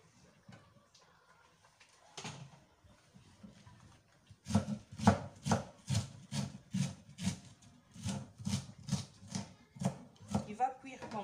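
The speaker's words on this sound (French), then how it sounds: "là, je suis en train de couper mon chou" Knife chopping cabbage for saka-saka: after a few quiet handling sounds, a close run of evenly spaced chopping strokes on a board, about two per second, continues to the end.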